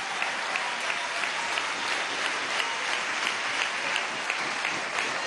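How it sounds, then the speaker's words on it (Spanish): An audience at a Hogares de la Patria event with President Maduro applauds health minister Luis López with dense, steady clapping that fills the whole stretch at an even, moderately loud level. "Vamos a darle un aplauso al ministro de salud, compañero Luis López."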